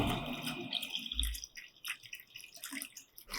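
Homemade herbal buttermilk is poured into a bottle, giving soft liquid trickles and drips, faint and intermittent, with a brief low thump partway through.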